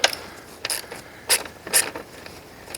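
A ratchet snugs up cushion roller bolts in the side frame of a 2006 Kustodian Plus bowling lane machine, giving four short bursts of clicking at close range over a quiet background.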